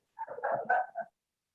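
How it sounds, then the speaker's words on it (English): A puppy at home barks after a knock at the door: a quick cluster of high, yappy barks with a whimpering edge, close by and loud, lasting about a second, then silence. "so my puppy's gonna bark"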